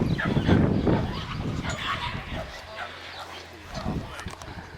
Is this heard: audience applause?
no